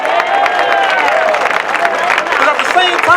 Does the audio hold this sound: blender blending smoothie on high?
no